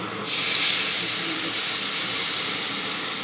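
A sudden loud hiss bursts out as wet tomato paste hits hot fried spices in oil, then settles into a steady, intense sizzle that slowly fades.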